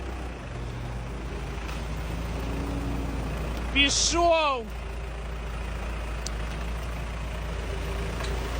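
An MTZ-82 tractor engine drones steadily and low while driving offroad through mud, with a brief squealing strain midway and someone speaking over it.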